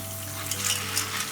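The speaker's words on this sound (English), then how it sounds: "Rinse the beans thoroughly in a strainer for a few minutes" Dried Goya beans get rinsed in a strainer under running tap water, a soft steady hiss of flowing water with a faint hum beneath.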